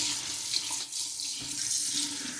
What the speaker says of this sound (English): we're going to go ahead and rinse it off